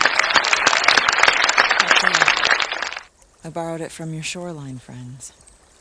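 A burst of loud crowd applause lasting about three seconds, followed by someone talking.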